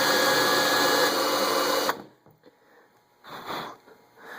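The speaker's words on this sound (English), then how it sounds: "we're going to drill into this" A power drill bores into a broken bolt with a loud, steady whine for about two seconds, then cuts off, leaving faint scraping and handling noises.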